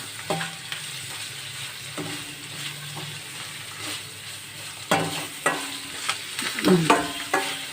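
Ingredients sauté in a pan with coriander added for a fenugreek-leaf rice dish, making a soft sizzle broken by repeated scraping stirs that grow louder and busier toward the end.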